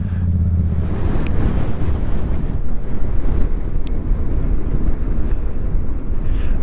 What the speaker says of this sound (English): want to know if y'all can hear how windy it is